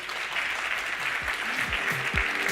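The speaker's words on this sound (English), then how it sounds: "let's give them a round of applause" Steady audience applause at a business travel conference keynote fills the hall as volunteers come up on stage. It stays even and full throughout, with faint low thumps underneath.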